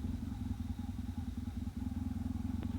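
A motorcycle engine runs steadily at low speed with a throbbing, pulsing rumble and a faint whine, heard up close from the rider's position with no talk.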